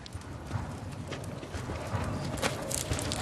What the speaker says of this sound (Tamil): குதிரை வாங்கிருக்கியா?